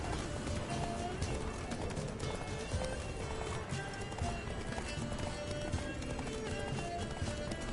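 Galloping hoofbeats of Roach, Geralt's horse in The Witcher video game, pound steadily under a dense wash of noise and music, with a voice talking over the running rhythm.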